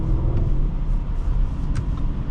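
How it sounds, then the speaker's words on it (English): A 2025 Audi SQ7 4.0T V8 rumbles steadily from inside the cabin while driving, a low continuous engine growl with road noise and no talk. "You got that pleasant growl of the V8 on the back,"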